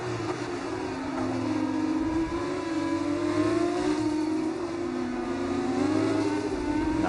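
Race cars in a sim racing game at the Mexico circuit braking into the chicane side by side, with a steady engine drone and whining gear tones that shift in pitch as the cars slow and accelerate, continuous throughout.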